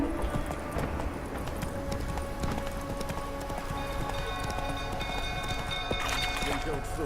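Roach the horse gallops in The Witcher 3, hooves clip-clopping in a steady rapid rhythm under game ambience and a voice talking.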